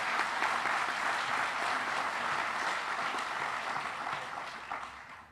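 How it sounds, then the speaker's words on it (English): An audience at a Memorial Day ceremony applauds steadily, a dense wash of clapping that holds for several seconds before tapering off. "Then give them a round of applause."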